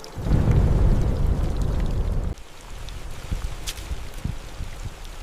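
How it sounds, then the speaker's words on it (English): A thunderstorm with pouring rain: a loud, dense roar of downpour and thunder that cuts off abruptly, leaving lighter patter and scattered drops with faint rumbles. "Then the rain begins, first slowly, then without mercy."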